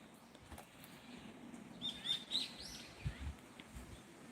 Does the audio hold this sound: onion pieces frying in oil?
no